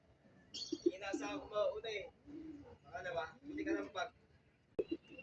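Racing pigeons settle at a home loft in San Simon, Pampanga, giving soft, low cooing calls in several separate bursts with short pauses between, close by but quiet.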